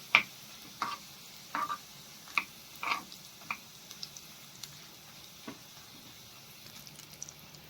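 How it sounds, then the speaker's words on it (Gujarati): Garlic frying in oil for Gujarati dal tadka, with faint sizzling under a series of sharp clicks and taps of stirring against the pan, quiet and intermittent with no talk. "હવે લસણને બધું સરસ તતળી ગયું છે"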